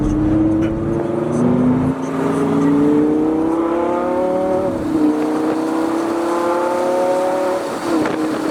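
A Lamborghini Gallardo engine with tuned software pulls hard through the gears, its rising whine stepping down sharply at each quick shift, loud and close from inside the car.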